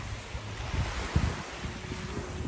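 Lake Biwa water laps at the shore in Higashiomi, a low rolling wash mixed with gusty wind noise, continuous and moderately loud, with no voices.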